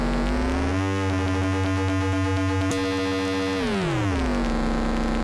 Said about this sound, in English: You can get some really atonal metallic sounds with the ring mod.